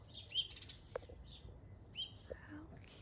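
Small birds at a homemade bird seed feeder give a few faint, scattered high chirps and tweets over a quiet low background hum.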